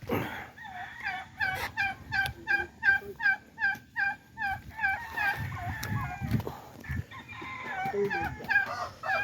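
A flock of turkeys in Tagaytay, Philippines, gobbles repeatedly in quick rhythmic bursts, close by, with other fowl and faint background noise mixed in.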